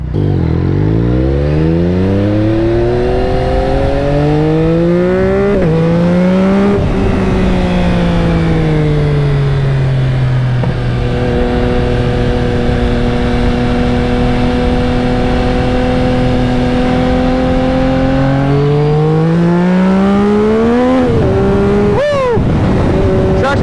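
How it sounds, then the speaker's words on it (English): A 2021 Yamaha MT-09 motorcycle with a flashed ECU and restrictions removed pulls hard at full throttle, its loud, close engine note climbing steadily through each gear, dropping sharply at shifts, then rising again, with wind roar underneath. "The bike now has full power at full acceleration, so there's no holding back."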